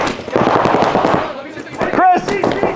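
Rapid bursts of video game gunfire crackle loudly in quick succession, mixed with a voice shouting over the shots.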